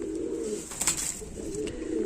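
A Teddy cross pigeon coos close by in soft, repeated low rolling phrases, with a few faint clicks and rustles over a steady background hiss.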